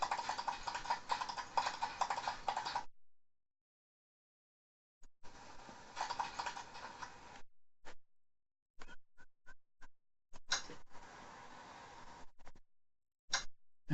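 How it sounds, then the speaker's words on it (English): Horse hooves clip-clop in a quick, even rhythm during riding in Expeditions: Conquistador, coming in bursts broken by silent gaps and a few isolated clicks; no voices. "Riding on my horse."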